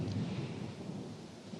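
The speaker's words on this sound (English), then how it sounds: "and the faraway rumble of thunder." Distant thunder rolls low and steady through a gray daybreak, a soft continuous rumble with a faint wash of rain, heard alone without voices.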